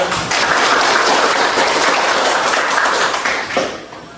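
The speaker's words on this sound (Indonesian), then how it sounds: "Beri tepuk tangan." Classroom applause from students at the start of a physics lesson, a steady burst of clapping lasting about four seconds that thins out near the end.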